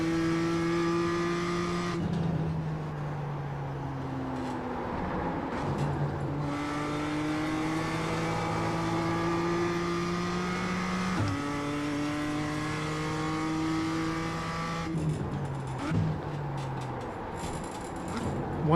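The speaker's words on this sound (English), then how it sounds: "So I think I'm going on the gas too early here." A Toyota GR86 accelerating around a track in iRacing, engine note climbing through repeated upshifts with brief dips and throttle lifts, loud and continuous, ending in a downshift burble and faint tire squeal.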